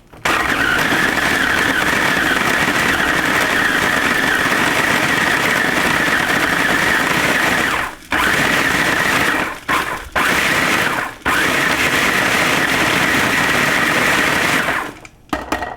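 A food processor chops dates in steady long pulses, its motor whirring loud and continuous with a few brief stops between bursts, no talking.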